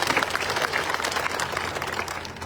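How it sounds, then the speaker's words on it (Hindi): Audience at a village political gathering clapping loudly to welcome a guest, dense continuous applause from a crowd throughout, with a faint murmur of voices beneath. "जोरदार तालियां से स्वागत कीजिए"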